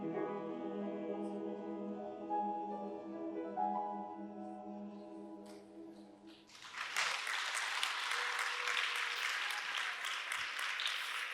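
Church congregation during a Sunday service: sustained sung or organ-like tones fade out and give way to a loud burst of applause and cheering from a large crowd, continuing steadily to the end.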